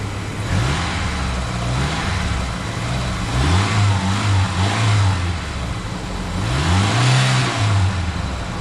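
A car bought at auction idles smoothly up close, a steady engine drone with a few gentle rises in pitch as it is lightly revved, loud with no talk.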